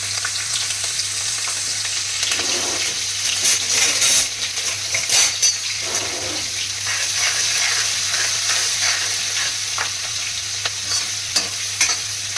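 Ginger-chili paste sizzling in hot oil with cumin and asafoetida on a gas stove for a Gujarati cauliflower-potato sabzi, a steady loud crackling fry with stirring scrapes and small clinks throughout.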